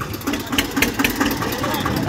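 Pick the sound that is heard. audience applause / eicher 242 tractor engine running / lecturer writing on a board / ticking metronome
eicher 242 tractor engine running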